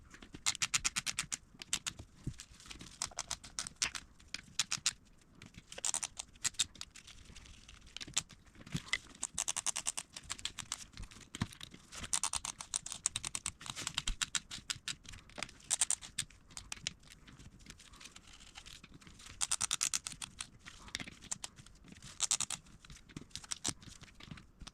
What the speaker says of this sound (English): using a small ratchet